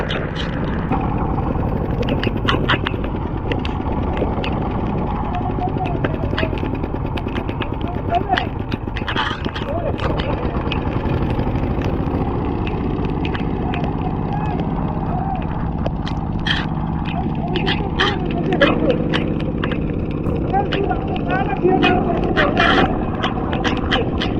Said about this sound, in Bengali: ড্রাইভার সাহেব আপনার করতেছে, কাজ করে, মানে জমি চাষ করতেছে পাওয়ার টিলারে